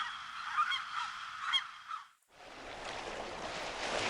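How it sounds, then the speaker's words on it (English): Birds heard within the visual novel Ever17, a bright chattering bird call over steady ambient tones that cuts off and gives way to a soft wash like surf, with no talking. "The birds chirping is not in the background music."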